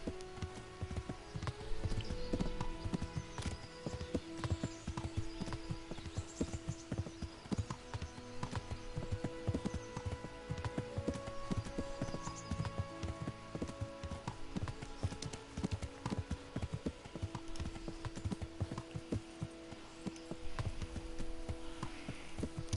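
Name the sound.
horse hooves clip-clopping in Kingdom Come: Deliverance video game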